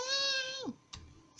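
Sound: cat meowing in the video game Angel of Death

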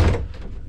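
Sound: closing the door of an old lift

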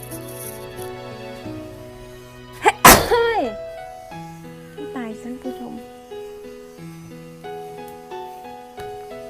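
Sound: sneeze

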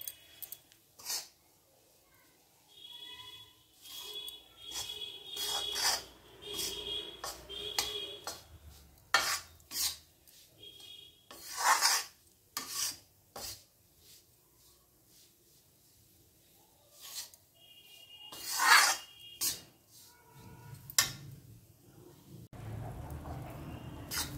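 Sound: gram flour (besan) roasting and stirred in pan on low gas

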